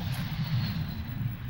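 A cartoon airplane passes overhead as a low, steady engine rumble, fairly loud and continuous throughout, with no voices.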